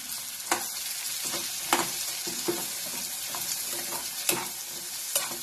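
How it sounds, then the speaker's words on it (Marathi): Bottle gourd tossed in hot oil with turmeric, a steady close sizzle broken by sharp spoon scrapes against the pan at irregular intervals, no voices. "एक 5 मिनिटं चांगलं हलवायचं तेलामध्ये."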